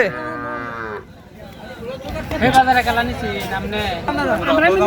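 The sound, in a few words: calf mooing at a cattle market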